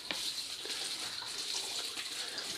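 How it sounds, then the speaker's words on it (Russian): Water from a hose gushes steadily into a barrel while preparing oyster mushroom substrate, a continuous broadband rushing and splashing that stays loud and even throughout with no talking. "я смотрю просто за количеством воды, которая набирается в бочку"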